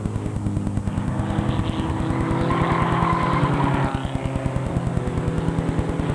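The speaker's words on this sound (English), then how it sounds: "This is called automobile racing" Race cars roar past on an oval track at a 2006 raceday, a dense, steady engine drone with pulsing exhaust notes and tire squeal, loud and close throughout.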